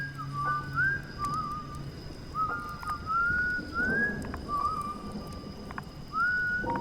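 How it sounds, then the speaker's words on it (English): A slow, wavering whistled tune, a few drawn-out rising notes repeated with pauses, clear over a low background hiss. "He didn't know what had woken him up until he heard it. Whistling."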